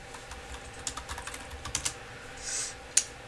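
Short, quick bursts of keystrokes on a computer keyboard, light and close, with a brief pause and then a final sharper tap at the end. No one speaks.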